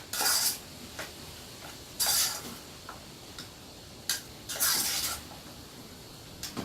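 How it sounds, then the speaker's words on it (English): A spoon stirs curry-coated vegetables in a pan, making repeated scraping bursts and light metallic clinks at irregular intervals, fairly quiet with pauses between strokes. "I'm just going to stir this around and round up any escapees"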